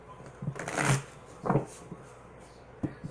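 An English Magic Tarot deck is shuffled by hand in a few quick riffling bursts, close and fairly soft, with short pauses between them.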